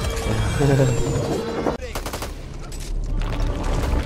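Rapid gunfire in the shooter game Back 4 Blood: dense, overlapping bursts of shots ring out close and loud, break off abruptly, then resume in a quicker rattle of sharp cracks.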